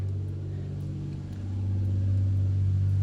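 A Toyota Supra's 2JZ engine idles steadily while warming up, a deep continuous rumble close by that swells slightly louder partway through, with no talking.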